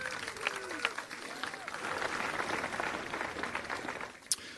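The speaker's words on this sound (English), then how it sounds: "Give him a round of applause." Applause from an outdoor summer municipal band concert crowd, moderately faint and spread out, with scattered voices and a sharp isolated clap near the end.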